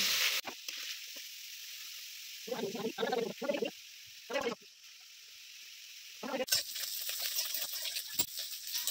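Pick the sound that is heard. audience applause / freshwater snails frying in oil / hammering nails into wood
freshwater snails frying in oil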